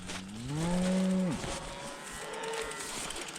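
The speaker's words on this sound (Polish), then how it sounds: "No przecież one nie rozumieją po polsku, bo to słowackie krowy." Slovak cows on a pasture moo loudly, one long rising and falling low moo near the start, followed by a fainter, more distant moo with outdoor background noise.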